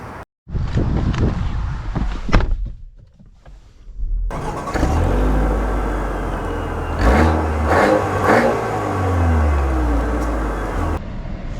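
A 2025 Buick Enclave Avenir SUV starts driving off. A door thuds, then the engine hum rises into a steady, moderately loud cabin drone with road noise, and a few brief clicks and knocks come through.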